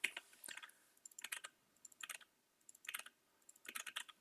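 Quiet, close clicking of a computer keyboard arrives in several short typing bursts separated by brief pauses.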